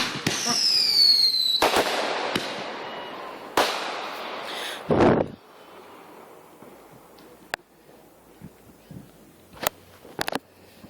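Fireworks bursting outdoors at night, a whistling rocket rising then several loud sharp explosions, followed by scattered fainter distant pops and crackles, with a few voices in the background.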